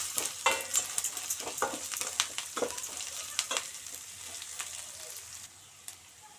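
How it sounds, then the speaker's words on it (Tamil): Chana dal and urad dal with green chili frying in oil, close-up sizzling with quick stirring scrapes and taps that fade toward the end. "நம்ம கடலப்பருப்பும் உளுத்தம் பருப்பும் போட்டு நல்லா இதையும் வதக்கி வச்சிடணும்"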